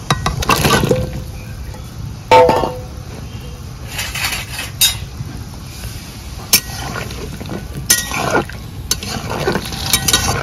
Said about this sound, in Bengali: এবার ইঁচড়গুলো গরম জলের মধ্যে ঢেলে দেব।